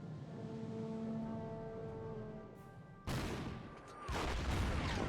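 Artillery fire in the wargame Order of Battle: Red Steel: two heavy, broad blasts a second apart that cut through a sustained droning tone, the second one rumbling on loudly.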